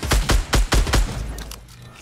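Shotgun blasts from Fortnite, five quick heavy booms in a rapid burst close up, then fading into quieter game noise.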